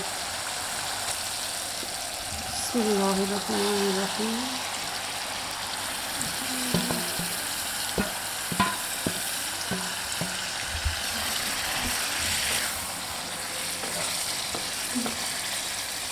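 Spinach for palak saag drops into a pan of softened frying tomatoes, bringing a steady sizzle with some stirring and scattered clinks over a low background hum. No one speaks.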